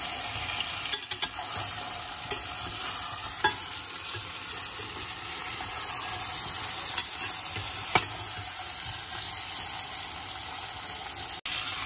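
Corn kernels and potato pieces fry for vegetable pulao in a pan: a steady, loud sizzling hiss runs throughout, with occasional sharp spatula taps and scrapes from stirring.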